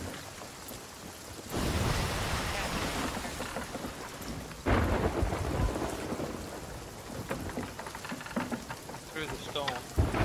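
Thunderstorm in the pirate sailing game Sea of Thieves: heavy rain hisses steadily while rolling thunder booms in twice, the second burst loud and close, with faint voices underneath.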